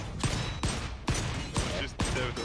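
Revolver shots in the video game Volcanoids fire in a steady rhythm, about five sharp blasts roughly half a second apart, loud and close.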